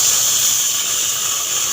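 Mango puree hitting a preheated frying pan over a lit flame, giving a loud, steady hissing spatter that holds for under two seconds with no voices.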